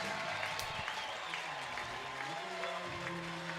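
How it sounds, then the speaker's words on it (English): Spectators cheer and applaud at a college softball game, a dense, continuous wash of crowd noise at a moderate distance with a voice faintly underneath. "No big hat, but a big cheer"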